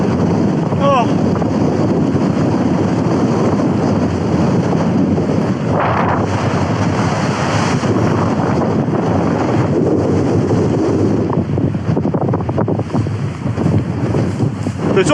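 Strong wind buffets a tent campsite in a loud, steady roar of gusts that hammers the microphone continuously, with no voices.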